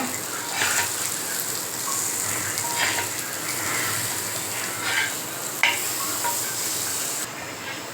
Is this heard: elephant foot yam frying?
yes